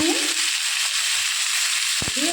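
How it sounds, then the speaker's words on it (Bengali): Taro, potato and tomato fry in oil with salt and turmeric, giving a steady, close sizzle that runs throughout, with a brief clatter of stirring near the end. "নুন হলুদ দিয়ে ভাজা ভাজা করে নিয়ে ফিরে আসি"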